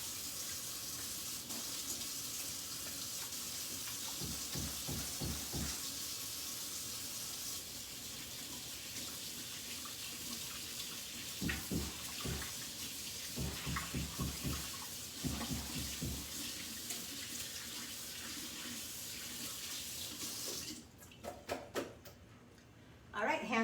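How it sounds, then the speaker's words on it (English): Running water from a sink tap streams steadily while hands are washed in a home kitchen during meal prep, with intermittent splashing and rubbing bursts over the flow, ending in a few sharp clatters. "Then you're going to hand wash too."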